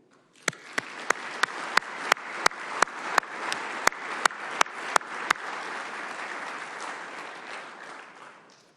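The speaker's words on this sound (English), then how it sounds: "Round of applause for that, right?" Audience applause at a city council meeting: a crowd claps steadily for several seconds, with a series of sharp, evenly spaced loud claps near the microphone standing out over the broader clapping before it fades.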